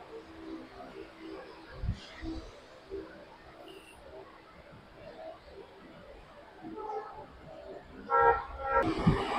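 A Tatanagar–Kharagpur MEMU electric train running on the line, a low continuous rumble and rattle heard from inside the carriage, with a brief brighter burst near the end.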